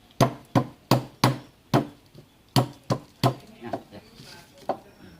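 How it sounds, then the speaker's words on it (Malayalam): Roasted cashew nuts are pounded to crack them, about a dozen sharp, hollow knocks in an uneven rhythm, close and loud at first, then softer and sparser as the strikes taper off. "ആ അണ്ടിപ്പരിപ്പ് തല്ലിയെടുക്കണത് നോക്കാം"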